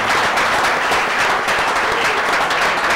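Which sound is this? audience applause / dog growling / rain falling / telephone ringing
audience applause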